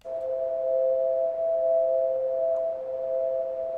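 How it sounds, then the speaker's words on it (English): A synthesized chord built from several pitches of filtered noise: a steady, whistly blend of sustained tones that holds at an even level for the whole stretch, with no voices. "what I'm going to get now is a chord, multiple pitches of filtered noise"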